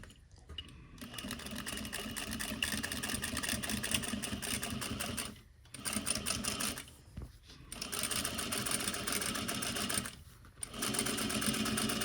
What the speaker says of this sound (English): this part's very easy. I'm just sewing through